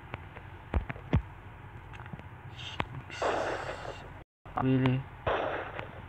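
AK-47 gunfire from a Minecraft guns mod, heard as several sharp, separate shots scattered through the clip, with a brief voice speaking over them.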